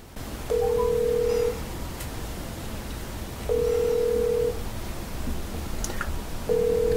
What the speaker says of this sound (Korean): 전화를 걸겠습니다.